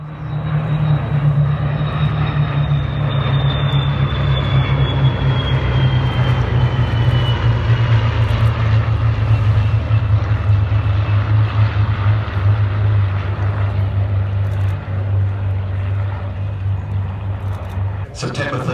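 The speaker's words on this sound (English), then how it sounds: "Two Spitfires. As they land, here they come." Two Spitfires landing at the Duxford air show give a loud, sustained propeller-engine drone with a steady low hum and a slowly falling whine, close and continuous.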